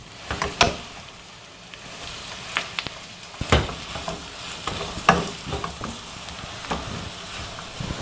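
Cabbage, capsicum and onion stir-fry in a hot pan, a steady sizzle broken by repeated scraping strokes of a spatula, loud and close with no voices.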